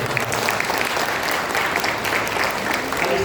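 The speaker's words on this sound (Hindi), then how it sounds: "तालियां बजा के प्रभु को" A church congregation at a Hindi prayer meeting bursts into dense, steady applause, many hands clapping together in a loud, sustained wash with no talk over it.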